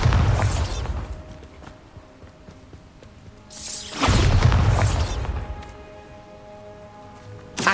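Two Bombarda spell explosions in Hogwarts Legacy, loud booming blasts a few seconds apart, each followed by a rumbling decay and scattered clattering debris.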